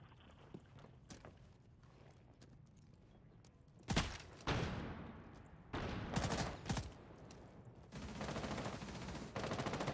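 Gunfire in the Rainbow Six Siege video game crackles in bursts, quiet scattered shots at first, then loud rapid volleys and sustained automatic fire in the second half.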